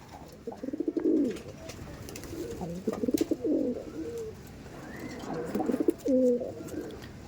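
A breeding pair of Andhra pigeons at Sonarpur coo close by in several soft, throaty bursts, with short pauses between the calls.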